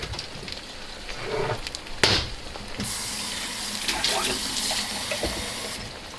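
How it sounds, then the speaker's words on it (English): Water is poured into a pot of Jamaican oxtail stew, giving a splashing, gurgling pour with a sharp clatter early on, close and moderately loud. "I'm gonna put a little bit of water because I don't want my oxtail to burn."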